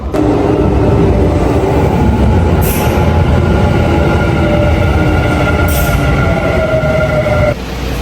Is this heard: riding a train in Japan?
yes